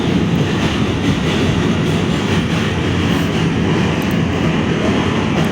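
An N line subway train crosses the bridge from Brooklyn to Manhattan with a steady, loud rumble and rattling wheel clatter heard from inside the car, with no break throughout.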